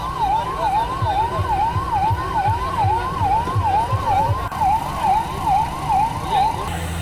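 A fire brigade siren wails in a fast, rapid up-and-down cycle, loud and close, at the scene of a parked truck loaded with cotton that is burning. A rumbling engine and street noise run beneath the siren.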